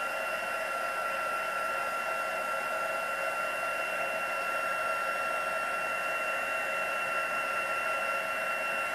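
An electric heat tool blows a steady, loud, unbroken rush of air while heat setting embossing ink on a stamped card, with no pauses and no talking over it.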